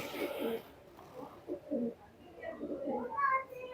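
A Chinese teddy pigeon gives low, rolling coos in repeated short bursts, close by, with a murmuring human voice in the background.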